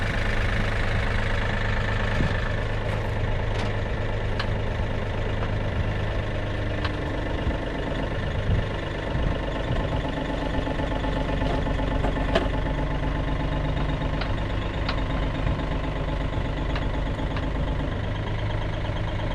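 A Yanmar B37 mini excavator's engine running steadily while its hoe lifts the machine, a loud, close, continuous low diesel drone with a faint knocking rhythm and no talking.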